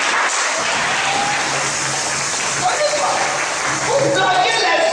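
Church congregation applauding during a Sunday worship service, a steady broadband wash of clapping that continues throughout, with voices mixed in under it.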